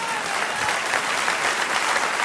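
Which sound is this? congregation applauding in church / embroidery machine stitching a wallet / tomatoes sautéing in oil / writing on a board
congregation applauding in church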